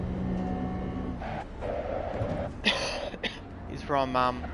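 A few rough coughs and throat clearing cut through a low steady background rumble, with a quiet voice in between.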